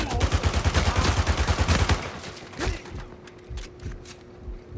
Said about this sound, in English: Yeah, that dude's still shooting through the wall, real.